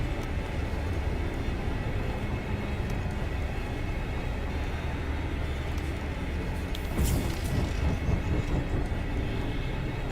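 A locomotive-like vehicle in FAR: Lone Sails rumbles along steadily with a dense, continuous mechanical drone and a brief brighter clatter near the end, loud and uninterrupted.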